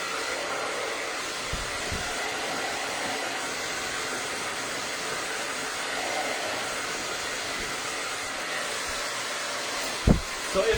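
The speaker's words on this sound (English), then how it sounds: "I'm trying to do it quick so you guys don't have to watch me blow dry during half an" Hair dryer blow drying a woman's layered bob haircut, a steady close whooshing hum that runs throughout, with a brief bump near the end.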